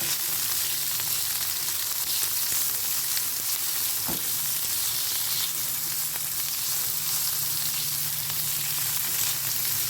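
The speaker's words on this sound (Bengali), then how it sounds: "এবার এই একই তেলের মধ্যে দিয়ে দেবো একখানা এরকম চৌকো করে কেটে রাখা পেঁয়াজ চৌকো করে কেটে রাখা আধখানা ক্যাপসিকাম এই দুটো দিয়ে আমাদের ভালো করে একটু নাড়িয়ে ফেরিয়ে নিতে হবে" Square-cut onion and half a capsicum fry in oil left from frying katla fish, producing a dense, even sizzle with occasional faint stirring knocks and no voices.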